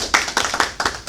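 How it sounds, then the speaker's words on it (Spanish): A small podcast studio audience claps for the guests, a short patter of handclaps lasting about a second, close and moderately loud. "vamos a darle un aplauso"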